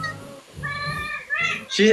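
A house cat meows several times in a row, with drawn-out, rising and falling cries close to the microphone, mixed in with people chatting.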